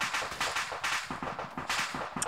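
Rapid gunfire in the ArmA 3 military game, with bursts of repeated shots crackling close and loud through the whole stretch amid a busy, dense battle mix.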